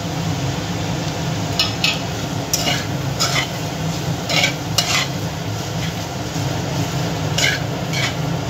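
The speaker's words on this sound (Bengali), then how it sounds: "আদাটা ভালো করে এর সঙ্গে মিশিয়ে নেব।" Ginger paste is stirred into fried potato and banana flower in a pan, a steady close sizzle broken by repeated scraping clicks of the spoon against the metal.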